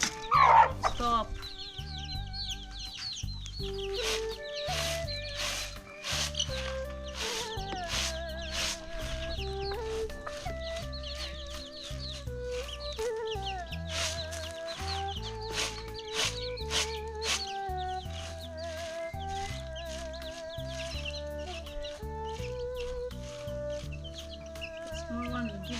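Chickens cluck and crow around an African village, with steady, overlapping clucks close by against a busy outdoor background, and voices heard now and then.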